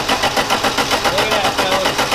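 A neglected 1976 Plymouth V8, unrun for 17 years, cranking over: a loud, fast, even chugging of the starter turning the engine, close up.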